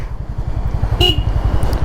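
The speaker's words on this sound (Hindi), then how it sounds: "हाँ अभी हॉर्न अच्छा सुनाई दे रहा है" A single short honk from a Honda motorcycle horn, freshly tightened after coming loose, sounds about midway over the steady low throb of the idling engine.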